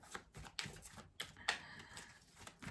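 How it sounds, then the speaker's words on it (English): A tarot card deck split in half and shuffled, giving quiet, irregular papery ruffling bursts and soft flicks over a couple of seconds. "I'm going to split this deck in half and shuffle it that way."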